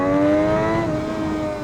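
Triumph Daytona 675 sport motorcycle engine revving under throttle, a loud, close, sustained engine note that rises and holds with strong harmonic whine.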